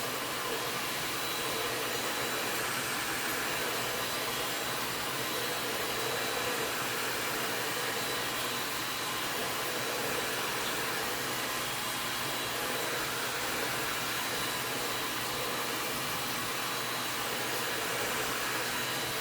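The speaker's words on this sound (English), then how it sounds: "Turn my heat gun off." A heat gun used to assemble a tower garden runs continuously, a loud steady blowing hiss with no variation and no voices.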